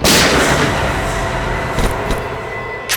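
A loud, sharp gunshot-like blast opens a tense drama scene, its broad burst decaying into a rumbling background, with two or three smaller bangs or knocks following later.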